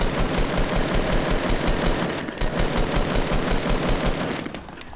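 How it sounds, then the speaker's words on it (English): Video-game gunfire: a sustained rapid machine-gun stream of evenly spaced shots, loud and continuous with a brief dip midway, no talk. "They're shooting at me."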